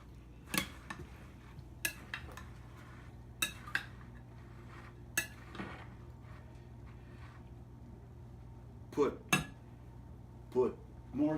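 A spoon clinks and scrapes against a metal pot in scattered bursts while marinara sauce is stirred, with quiet background hum between the strikes.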